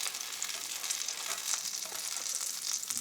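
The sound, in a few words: bread frying in a pan for a fry-up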